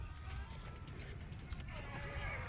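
A horse gallops during a siege battle in the medieval video game Conqueror's Blade, with faint, rapid, rhythmic hoof thuds under game sounds and people talking.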